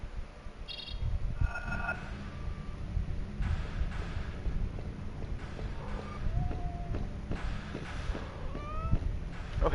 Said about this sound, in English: There's a kitty.